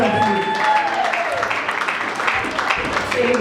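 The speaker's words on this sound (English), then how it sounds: "Can you clap for them in Jesus' name?" A congregation at an overnight prayer service applauds, a continuous wash of clapping from many hands with voices and a sustained tone underneath.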